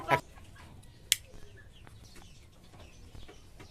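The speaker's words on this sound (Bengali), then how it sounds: "এগুলো হচ্ছে কি আমাদের দেশি মুরগি" Native deshi chickens on a small poultry farm, heard as a few faint, scattered clucks and short calls over low background noise.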